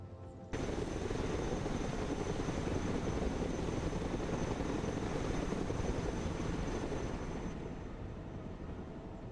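A helicopter in the video game Broken Arrow, a steady dense rotor and engine roar that starts abruptly, holds at moderate loudness, then eases slightly toward the end, with no talking.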